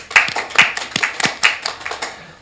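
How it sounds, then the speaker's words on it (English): A few people at a committee meeting give a short round of applause, sparse and distinct claps in an uneven rhythm that thin out within a couple of seconds. "How about a round of applause?"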